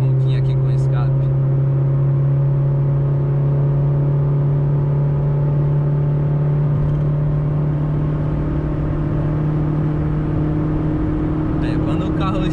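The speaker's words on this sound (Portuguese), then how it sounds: "Olha o ronquinho aqui com escape." A Chevrolet Corsa Wind 1.0 with an aftermarket exhaust drones steadily while cruising down a mountain highway, a low constant growl with a slight rise midway and faint background noise.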